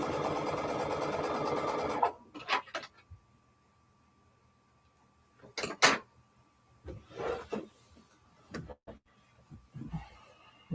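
Sewing machine stitching a curved quilt block seam runs in a steady two-second burst, then stops, followed by scattered handling clicks and fabric rustles in a quiet room.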